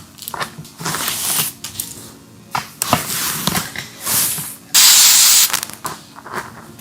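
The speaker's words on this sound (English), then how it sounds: "grab some type of holding spray and spray the roots" Bursts of hair holding spray hiss close by in short repeated puffs onto wig roots, ending with one long, loud continuous spray.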